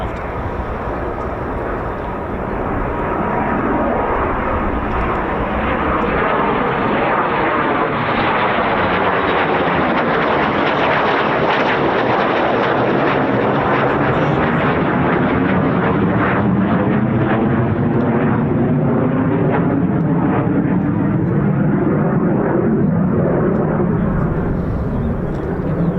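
A Eurofighter Typhoon FGR4 jet at RAF Coningsby roars past, loud and sustained, its broad engine noise swelling and sweeping in pitch as it nears and passes overhead.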